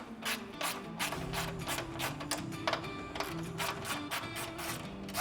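Ratchet socket wrench running four 10mm bolts into a transmission cooler on a Nissan Xterra or Frontier, a close, rapid and steady clicking that carries on without a break.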